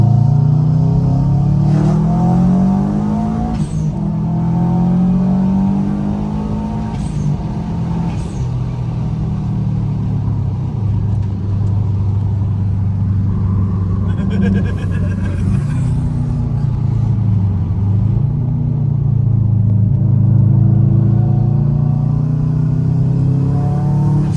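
A 1.9 TDI diesel car engine revving hard on high boost, loud and close, with repeated rising and falling revs and a continuous turbo-laden drone across the whole stretch, no talking over it.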